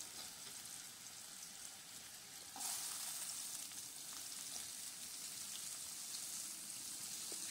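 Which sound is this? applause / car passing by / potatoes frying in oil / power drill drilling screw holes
potatoes frying in oil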